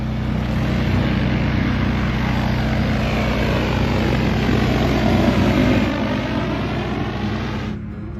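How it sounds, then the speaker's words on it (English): A large agricultural drone spraying water over crops, heard as a loud, steady propeller drone close by, holding an even level throughout and easing slightly at the very end. "They're watering their crops with a drone."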